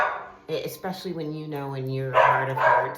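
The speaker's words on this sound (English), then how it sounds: "and sorry about my dogs" Dogs bark a few times in short yips under a person's steady speech, fairly close and mixed into the talking.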